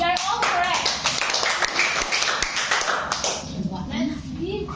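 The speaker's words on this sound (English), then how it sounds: "Let's give 5 claps to all representatives." A group of people in a classroom lesson claps together in a short, rhythmic burst of several claps, with voices talking over it.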